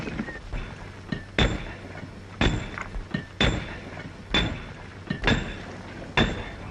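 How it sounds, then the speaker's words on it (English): Sharp metallic hammer blows drive a spike into a rock crevice, about seven irregular ringing impacts spaced roughly a second apart, close and loud. "Bring out the spike and hammer."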